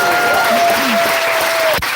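Audience applause at a live comedy show in a bar venue, loud and steady clapping filling the short stretch, with a whistle-like tone and faint voices over it.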